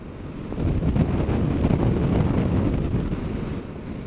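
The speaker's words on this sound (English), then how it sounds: "this is basically what it sounds like when you're in that wind pocket right behind the screen" Loud, steady wind roar buffets the rider in the pocket behind a Givi Airflow windscreen on a Suzuki V-Strom 1000 motorcycle at speed, a dense broadband rush with fluttering gusts throughout.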